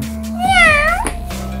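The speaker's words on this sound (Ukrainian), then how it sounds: "Тут якийсь кіт. Це кицька." A single drawn-out meow, rising and then falling, comes from a cat toy inside a Halloween sweet box. It is loud and close, with a low electronic hum before and after it.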